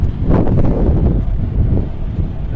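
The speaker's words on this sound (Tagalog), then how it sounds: "Ang lakas ng sandstorm" Strong Middle East sandstorm wind buffets the microphone in heavy, roaring gusts that rise and fall continuously, with no voices.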